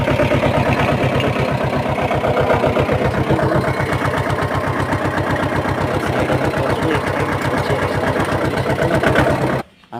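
A tractor engine chugs in a loud, close, steady rapid pulse, running evenly for nearly the whole stretch before cutting out abruptly at the end.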